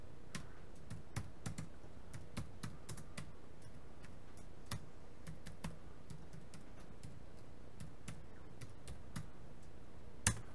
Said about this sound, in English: Let me try typing this in.